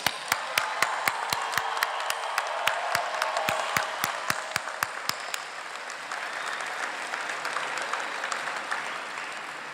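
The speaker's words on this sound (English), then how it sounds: "Let's have one more round of applause for all our graduates." Commencement audience at a university art and design ceremony applauding graduates, a broad wash of crowd clapping with one loud, close, evenly paced clapper in front that stops midway while the applause carries on and fades.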